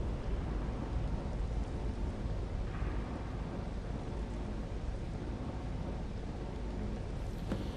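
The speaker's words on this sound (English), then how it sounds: "It started raining the second we started talking, and it's now dying down." Steady rain falls in the Skyrim video game, a dense, even hiss that continues unbroken throughout with no voices.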